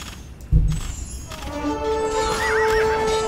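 Horses whinny loudly in a medieval strategy battle game, a long shrill neigh rising over a low rumbling battle din, with a brief clip-clop thud near the start and no talk.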